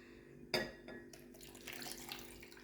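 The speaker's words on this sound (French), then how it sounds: "je rajoute de l'eau minérale" Mineral water poured over cut celery in a container, a soft continuous trickle and splash beginning with a sharp knock, quiet and close.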